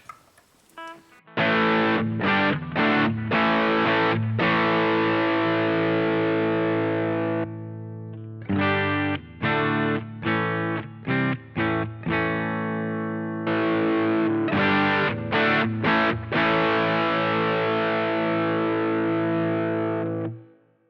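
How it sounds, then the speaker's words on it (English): Electric guitar played through a Boss GT-1 effects processor set to overdrive distortion, loud sustained chords with short gaps as they change, alone without talk. "If we then press in the GT-1, we'll get our, you know, overdrive distortion sound."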